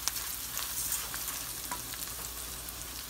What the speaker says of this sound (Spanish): ya que tiene este aceite bien caliente, ponemos el arroz